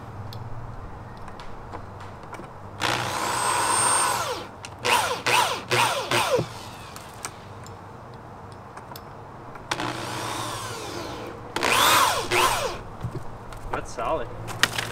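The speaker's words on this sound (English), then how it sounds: "It drills." Electric drill powered by an EcoFlow Delta 1300Wh portable power station, whirring in several loud bursts of a few seconds each with pauses between, close by and alone.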